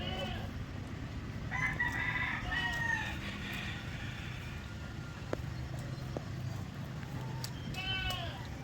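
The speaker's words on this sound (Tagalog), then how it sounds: "So yung rooster natin asil yan." An Asil rooster crows on a farm, harmonic calls rising and falling at moderate distance amid clucking hens and background chatter.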